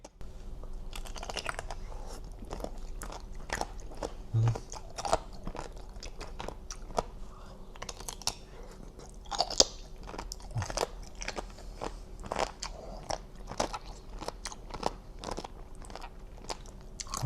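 Crunchy bullet jellyfish chewed close to the mic, a steady run of crisp bites and wet crunching that keeps going with no talk over it.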